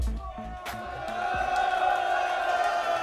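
A live audience at a rap concert cheers and whoops in a dense, swelling roar that builds and holds, heard close and loud after a voice calls out over the crowd.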